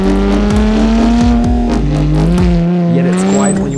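A Porsche 997 fitted with an ECG Performance valved exhaust revs hard and loud, its engine note climbing and dropping through quick gear changes under spirited driving.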